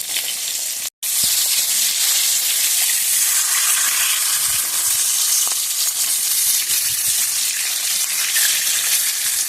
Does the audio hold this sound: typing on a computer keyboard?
no